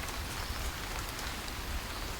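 Steady rain in the video game This Land is My Land, a dense, even hiss of drops pattering on surfaces, close and continuous with no voices.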